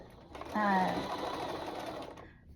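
A sewing machine stitches a cotton sweater in one short, close, steady run lasting about two seconds, with a brief tonal whine near its start.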